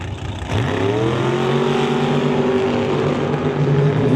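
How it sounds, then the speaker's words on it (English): A Chevy roadster drag car, the Pitbull Mechanical Repairs Evil Bucket, launches and accelerates hard down the strip, its loud engine roar climbing steadily in pitch from the launch onward. "Wheels up high for Stefan Robert as he rips that roadster towards the top end."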